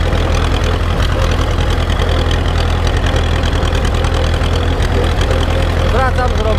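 An Ursus tractor engine runs loud and steady close by on the way to collect a trailer, a constant low diesel chug with a voice speaking over it.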